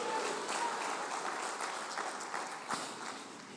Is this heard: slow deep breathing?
no